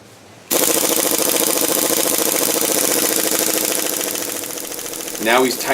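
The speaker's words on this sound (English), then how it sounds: "Now he's tightening up the strut bolt." A power tool tightens the front strut bolt on a 2000–2006 Audi Allroad Quattro suspension. It starts abruptly with a loud, steady, rattling buzz that runs about five seconds, then a brief voice is heard at the end.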